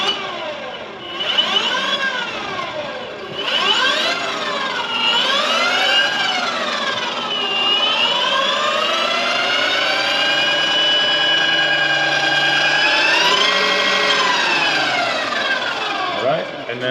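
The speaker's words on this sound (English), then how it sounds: "hit this button, and you'll hear the controller fan come up" The electric controller fan of a Coyote Tri-Pin adaptive off-road ATV spins up with a whining tone that sweeps up and down in pitch, then settles into a steadier whine. A person talks over it.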